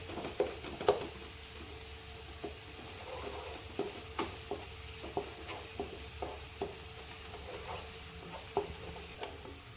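Red chili powder being stirred into a stuffed drumstick curry in a pan, soft scraping strokes in an irregular rhythm over a faint low sizzle, close and quiet.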